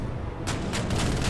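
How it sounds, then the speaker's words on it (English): Light cruiser guns firing at an Arado seaplane in a naval war game, a steady rumbling barrage with sharper bursts of gunfire layered over a continuous low boom. "And another light cruiser. Taking shots at my Arado."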